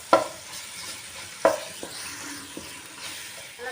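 Ginger garlic paste, two spoons added after curry leaves and onions, frying in a pan for an Andhra Divi Seema style fish curry, giving a steady soft sizzle with a few sharp stirring scrapes and clinks.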